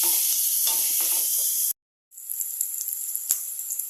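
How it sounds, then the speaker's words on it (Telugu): Green chillies frying in a pan with oil, a strong steady sizzle and hiss close up that cuts out briefly, then resumes as a crackling fry with faint pops. "అలాగే గ్రీన్ చిల్లీ వేసుకుందాం. ఒక 1 మినిట్ ఫ్రై చేసుకోవాలి."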